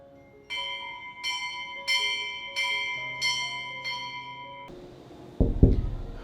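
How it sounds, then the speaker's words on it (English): A bell rung by a customer after booking a Triumph Street Triple R motorcycle gives six clear, evenly spaced strikes whose ringing overlaps, followed by a brief clatter and thump. "We have a ritual where the customer rings the bell 6 times after booking."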